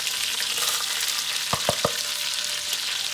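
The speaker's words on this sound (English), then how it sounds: "to the same oil, we're going to add our red pepper" Red pepper, onions and garlic sizzle steadily in hot oil, with three sharp scraping clicks of a utensil stirring them midway, close and alone.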